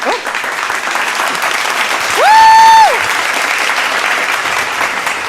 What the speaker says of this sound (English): Thank you, applause track.